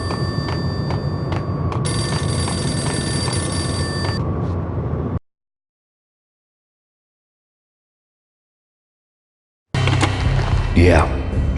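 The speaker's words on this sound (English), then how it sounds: "The payphone started to ring." A payphone rings in the video game Max Payne, a steady bell-like ring with repeated tones for about five seconds, then silence, followed by another loud burst of sound.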